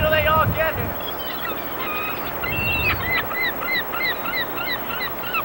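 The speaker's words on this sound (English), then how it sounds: "Look at all the birds." Seagulls call and squawk in a noisy, overlapping flock while being fed on an Ocean City, New Jersey beach, with loud nearby cries at first and many repeated calls throughout.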